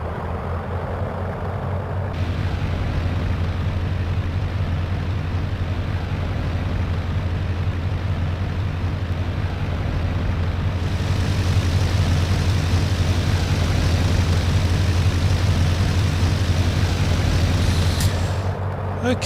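De Havilland Chipmunk engine rumbles steadily while the aircraft lines up on the runway, a loud close drone with a hissing shift partway through.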